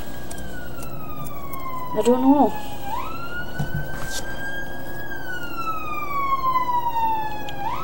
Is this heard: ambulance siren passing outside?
yes